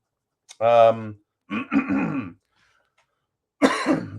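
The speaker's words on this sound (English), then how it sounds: "Pardon that cough." A few rough coughs and throat-clearing bursts, close to the microphone, separated by short silences.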